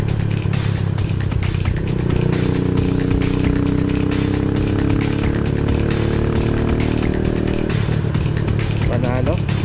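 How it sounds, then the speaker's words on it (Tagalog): A motorcycle engine runs close by with a steady mid-pitched drone that rises in tone as it revs, a Yamaha NMAX 2020 or Rusi Sigma 250, heard under people talking nearby. "Pero ang sarap i-trim itong motor niya"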